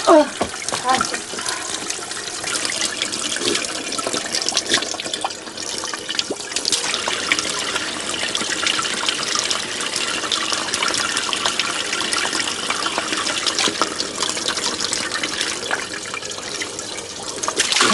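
Water runs steadily from a village fountain, a continuous broadband splashing stream filling the whole stretch, with people talking over it at moments.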